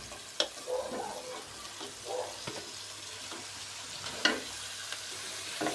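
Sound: chopped fenugreek leaves added to pan, frying with spices

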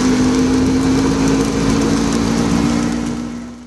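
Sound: tuk-tuk engine while riding in Colombo

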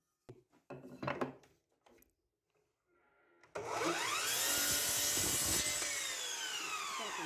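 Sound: cutting wooden boards for a rocking horse

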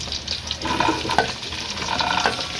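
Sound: onions frying in a pan

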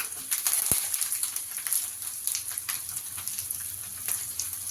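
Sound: garlic frying in hot oil

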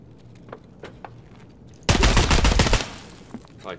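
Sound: gunfire in the video game Escape From Tarkov

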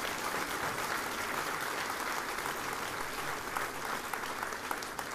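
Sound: audience applause for folk dancers

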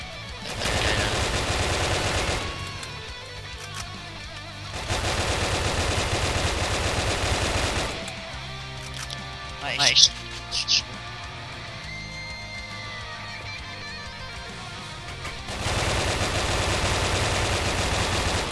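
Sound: gunfire in Brick Force video game

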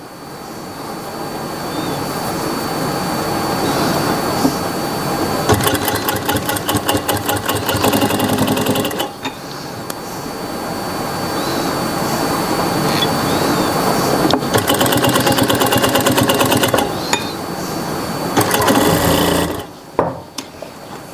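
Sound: sewing machine stitching piping onto a Punjabi suit

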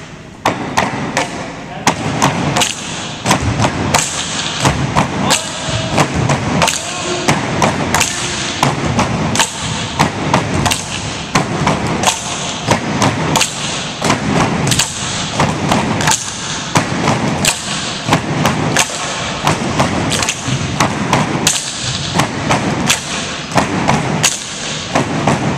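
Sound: tinikling bamboo poles banging rhythmically

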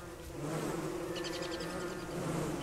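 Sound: swarm of bees buzzing in video game Don't Starve

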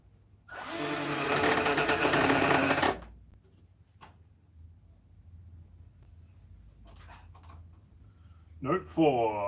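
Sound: power tools running while building an instrument

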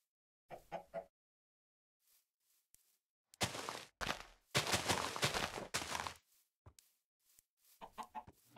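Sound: chickens clucking in Minecraft video game

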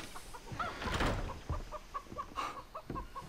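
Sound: chickens clucking in the video game Far Cry 3

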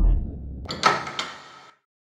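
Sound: door opening in video game Lost in Vivo

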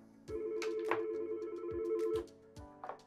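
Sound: incoming call ringing on a Yealink desk phone using 3CX

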